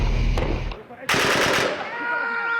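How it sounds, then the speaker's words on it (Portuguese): Distant gunfire in a Syrian war zone: a sharp burst of shots, then a loud crackling rattle of rapid fire, with clamor and voices around it. "De repente, tiros à distância."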